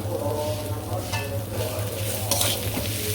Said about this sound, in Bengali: আদা বাটা দিয়ে মিশিয়ে নিই ভালো করে